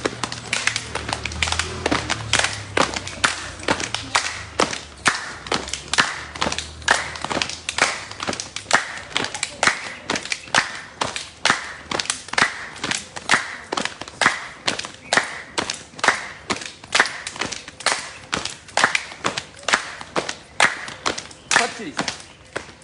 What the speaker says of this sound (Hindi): ताली बजाएंगे और जंप करेंगे इस तरह से